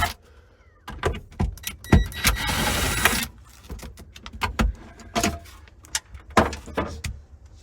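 Cover being removed from a Victron Lynx Distributor bus bar in an RV electrical setup: a series of close plastic clicks, snaps and knocks with a brief scraping slide, irregular and sharp, no talking.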